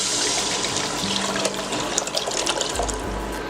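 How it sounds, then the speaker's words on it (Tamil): Dissolved pepper rasam liquid pours steadily into a pan of tempered spices, a continuous splashing, gurgling stream close by, with no talk. "இப்போது கரைச்சி வச்ச இந்த ரசத்தை இது கூட சேர்த்துடலாம்."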